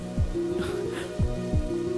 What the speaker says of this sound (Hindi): तुम इस तरह बारिश में भीग रही हो।